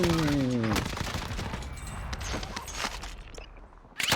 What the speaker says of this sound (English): the guy just shot me from the side